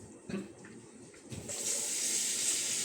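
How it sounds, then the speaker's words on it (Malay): Water is added to a pot of quick beef and bone soup in a soto style. Faint kitchen clatter comes first, then a steady, close gush of pouring water begins about halfway through and continues to the end. "Dan kita akan tambahkan air sebab kita punya tema adalah soto."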